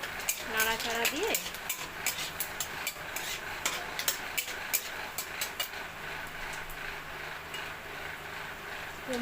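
Dried red chillies and panch phoron frying in hot oil while being stirred, with a soft sizzle under repeated sharp ticks and scrapes of a spoon on the pan, and a voice speaking briefly near the start.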